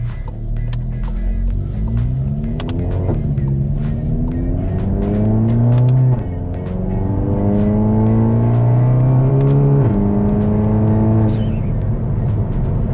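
A VW MK7 GTI with a hybrid turbo accelerates hard through several gear changes, its engine note climbing and dropping at each shift with a fluttering edge, loud and heard from inside the car.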